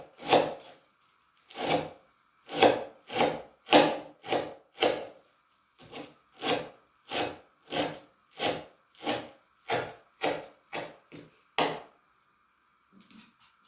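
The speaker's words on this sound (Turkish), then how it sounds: "Maydanozlarımı ince ince kıyıp harcımın içine alacağım." A knife finely chops a bunch of parsley on a wooden board, with crisp, close, evenly spaced strokes in a steady rhythm. A short pause falls partway through, then the chopping resumes.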